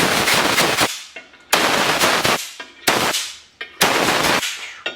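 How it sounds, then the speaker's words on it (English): A compressed-air blowgun with a narrow tip blows crud out of crankcase holes in four loud, close, hissing blasts, each about a second long, separated by short pauses with faint workshop clatter. "I like to use a blowgun that's got a little bit of a tip on it, because that gets to the bottom of the hole and blows the shit out."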